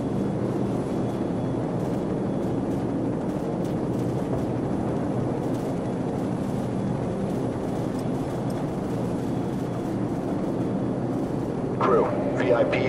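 Helicopters in Call of Duty 4: Modern Warfare give off a steady, loud, dense rotor-and-engine roar that fills the scene without letup, with a short extra burst of sound near the end.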